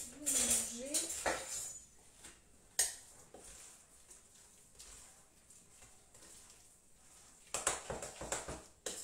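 A spoon scrapes and clinks against a bowl while mixing mashed sweet potato, bursts of metallic scraping at the start and end with quieter stretches between, with someone talking nearby.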